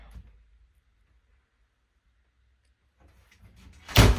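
Sliding pocket bathroom door in a 2007 all-aluminum Kiefer Genesis horse trailer, near silence and faint shuffling before a short, sharp sliding clack at the end.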